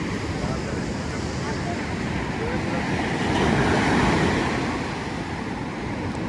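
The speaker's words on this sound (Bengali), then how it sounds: "তাহলে ঢেউটা কত বড় আসছে দেখতে পাবি" Steady roar of surf at Puri beach with heavy wind buffeting, swelling louder midway as a wave breaks close by.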